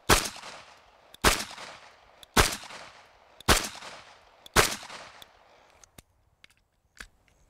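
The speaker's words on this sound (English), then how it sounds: "let's look at it in slow motion again, but I'll shoot it without talking" Five loud pistol shots crack at a shooting demonstration, spaced about a second apart in a steady rhythm, each with a short decaying tail, followed by a few faint clicks and small knocks.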